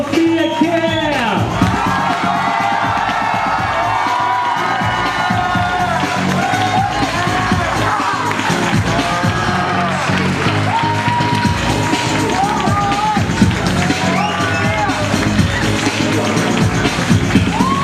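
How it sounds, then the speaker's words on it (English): Wedding guests greet the newlyweds at the reception with loud cheering, whoops and clapping that fill the room, under babble and raised voices throughout. "welcome to the room with rousing applause, the new Mr. and Mrs."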